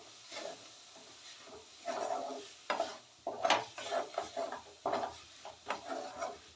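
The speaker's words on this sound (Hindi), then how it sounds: "इसको अच्छी तरह से मिला के भून लेंगे मसाले और टमाटो को" Red chili powder, salt and tomato are stirred and fried in a pan for an arbi gravy, with quiet, intermittent scraping strokes over a soft sizzle.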